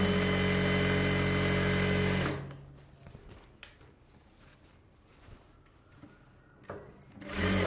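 An electric sewing machine stitches a dress lining in a steady, loud burst, falls quiet for several seconds amid faint fabric handling, then starts up again at the end.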